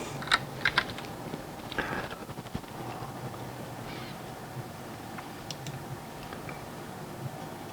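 Someone types on a PC keyboard in short bursts of close, crisp key clicks, busier at first and then thinning to a few scattered taps against low background hum.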